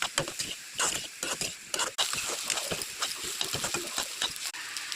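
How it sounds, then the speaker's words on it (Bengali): Boiled, squeezed soya chunks with salt and turmeric fry in hot oil in a wok. They give a crackling sizzle broken by scraping stirs and rattling bursts, with no talking. "সোয়াবিন আমি জলে সিদ্ধ করে উঠিয়ে ঠান্ডা করে চিপে নিয়েছি, এখন ভেজে নেব"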